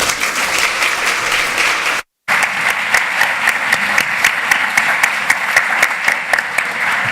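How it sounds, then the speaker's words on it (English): An audience applauds at a talk, dense steady clapping that fills the room with a sharp dropout near the two-second mark, then continues evenly to the end. "I would get a group of people applauding"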